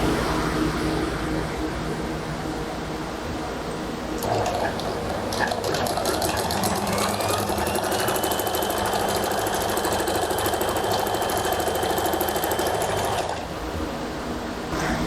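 A sewing machine stitching trouser seams hums and rattles steadily, running faster and louder through the middle stretch before easing back, close and continuous, with no speech.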